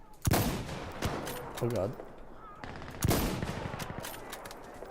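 Gunfire in the video game Insurgency: Sandstorm: two loud bursts of shots, one near the start and another about three seconds in, with a voice briefly exclaiming between them.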